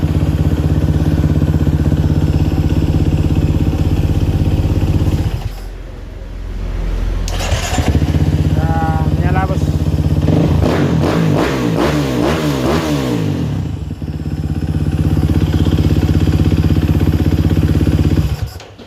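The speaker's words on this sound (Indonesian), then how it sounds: "Alhamdulillah nggak jadi beli full pump yang seharga 5 juta, sudah berhasil menyala, alhamdulillah." A KTM 350 EXC dirt bike engine idles loudly up close after its fuel pump problem is fixed, dips briefly, then is blipped through several sharp, rapid revs before settling back to a steady idle and cutting off.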